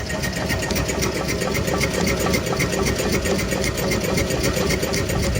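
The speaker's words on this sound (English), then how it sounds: "So there you go, running again with the slightly smaller pulley." A homemade wood-fired Stirling engine drives a generator through a slightly smaller pulley, giving a fast, steady mechanical chatter and whirring hum, close and continuous, with no voices.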